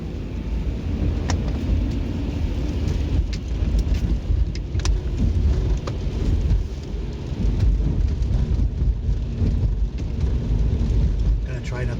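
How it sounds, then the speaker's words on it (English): Heavy rain while driving in a car: a constant dense roar of rain and road noise, loud and steady, with faint wind buffeting and no break throughout. "It's raining profusely right now."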